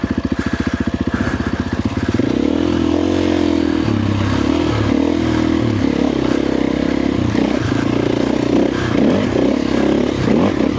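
A motorcycle fitted with a Dobeck EJK fuel controller and a Fastway ProMoto billet end cap idles with a rapid, even putter at first, then revs up into a loud, sustained, rising and falling engine roar close by.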